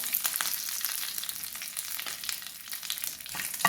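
Hot oil sizzles and crackles steadily, with quick pops and spatters from mustard seeds, dried red chillies and curry leaves frying close by.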